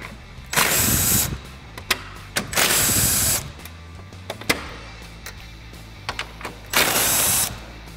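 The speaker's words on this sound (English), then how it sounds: "So now I'm going to take my 3/8 gun, my 10 millimeter. We're going to remove these 4 bolts" A 3/8-inch impact gun with a 10 mm socket backs out grille bolts on a 2013–2018 RAM 1500: four loud, close whirring bursts, each about a second long, with small clicks and clatter between them.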